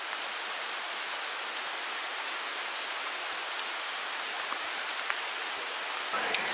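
Rain falling steadily in London, a dense continuous hiss of drops on hard surfaces, close and even from start to finish, with a few sharper drips near the end.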